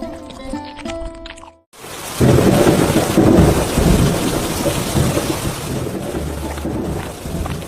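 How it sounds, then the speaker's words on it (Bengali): Heavy monsoon rain pours down steadily with low rumbles of thunder, loud and enveloping, after a few seconds of music at the start. "বারান্দায় দাঁড়িয়ে বৃষ্টি দেখছে"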